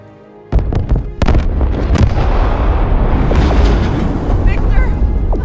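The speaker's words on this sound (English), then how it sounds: "Massive explosion in the bay." Massive explosion in a Batman video game set in a bay, a sudden loud blast after sharp cracks, followed by a sustained roaring rumble of debris and fire.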